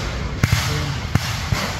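Gunfire crackles near a convoy under attack at Sungai Rawara in Moskona District, Teluk Bintuni, Papua: three or four sharp, separate reports over a low rumble, each a short loud crack.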